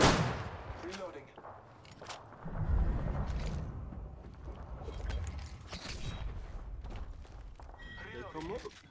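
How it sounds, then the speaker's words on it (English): Gunfire in the video game Apex Legends, with scattered shots and bursts popping at moderate distance over a busy game soundscape, and voices present. "Oh, they shooting some more."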